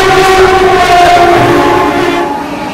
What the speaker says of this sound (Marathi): ही एक्सप्रेस ही बघ धावते निघते